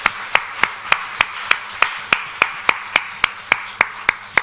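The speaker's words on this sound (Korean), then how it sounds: "우리 박수로 환영하겠습니다" At a church conference welcome, crisp claps ring out in a steady, even rhythm of about three per second, each one sharp and distinct, close and loud with no talking over them.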